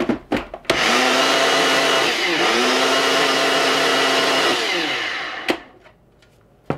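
An electric mixer whirs steadily through pancake batter with baking powder added, running loud and close for about four seconds with a brief dip in pitch midway. Short knocks and clatters come before and after, with no talk.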